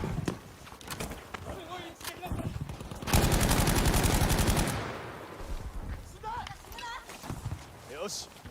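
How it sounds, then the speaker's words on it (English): An MMG machine gun is hip-fired in Battlefield 5 multiplayer on PlayStation 5, letting out one loud, dense, continuous burst of about a second and a half, with scattered shots before and after and someone talking. "This guy just like hip fired the MMG and it is absolutely perfect."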